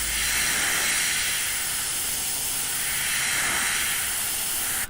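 Steady airbrush hiss spraying thinned paint mixed for detail work, a continuous close airy rush that holds evenly for the whole stretch with no voices.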